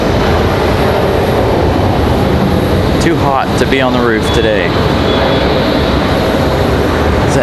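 A Delta airliner from Detroit on approach to Raleigh-Durham airport makes a loud, steady jet engine roar that swells and lingers, heard from a rooftop with wind noise, while a person speaks briefly midway.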